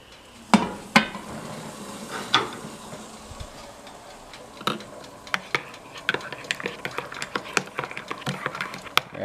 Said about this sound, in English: gotta give it a really good stir for a while, otherwise, like I said before, it'll be too powdery